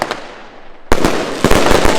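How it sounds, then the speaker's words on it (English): A Classic Fireworks super fast gun firework goes off on Bonfire Night, a brief faint pop giving way to a loud, rapid rattle of crackling bursts fired in quick succession. "this is super fast gun from Classic Fireworks"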